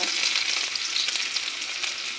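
Chopped onions and whole cumin hit hot oil in a kadai, giving a loud, dense, continuous sizzle heard close and on its own.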